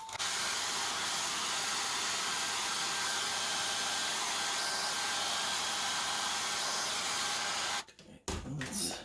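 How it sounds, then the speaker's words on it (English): A hair dryer blows steadily to warm the rubber mat on the rear fender of a Segway Ninebot Max G30 scooter, a loud constant whoosh that cuts out near the end with brief handling noise. "I have a hairdryer here, and I will try to warm up these two parts of the rubber mat"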